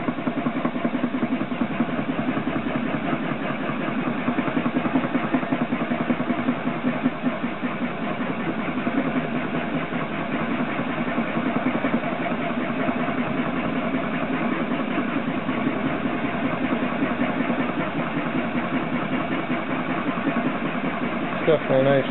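A homemade Gingery metal lathe cuts metal with a ground lathe tool bit, giving a steady, continuous mechanical drone and whine that holds at an even loudness throughout, close by.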